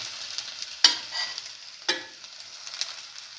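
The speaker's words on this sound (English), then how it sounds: "Let it fry. Do this until all the sandwiches are nicely toasted." French toast sandwiches fry in a hot pan with a steady sizzle, crossed by two sharp scraping stirs from a utensil and lighter clinks, close and moderately loud with no voices.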